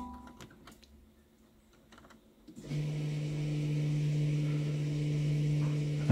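A Jaguar F-Type's electric parking brake goes into maintenance mode. A few faint clicks come first, then an electric motor starts up and hums steadily at close range before a sharp thump at the very end.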